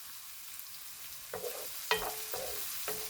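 A pan of curry meatballs sizzles softly, with a faint continuous fry broken by a few sharp stirring scrapes and clinks in the second half, no voices.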